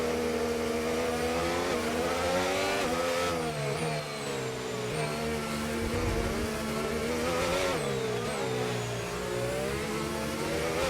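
Formula 1 race car at Miami, its high-pitched engine screaming and rising and falling through gear changes with braking and acceleration, loud and continuous from onboard.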